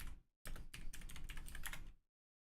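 Quick bursts of typing on a computer keyboard, dense clattering keystrokes in two short runs separated by a brief pause, close and fairly quiet, with no voices.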